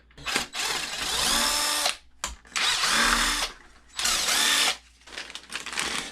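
Power drill or driver whirring in several loud bursts with ratcheting pauses between them while the bumper comes off an X-Maxx RC car during sway bar installation, close and with no talking.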